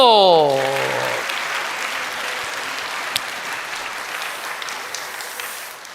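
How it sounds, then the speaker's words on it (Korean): A congregation at a worship service breaks into applause right after a brief spoken line; the broad crowd clapping starts loud and gradually thins and fades over several seconds. "좌우 옆에 오신 형제님 자매님 위해서 박수"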